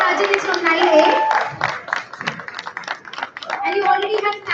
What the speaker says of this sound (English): They're already clapping for you.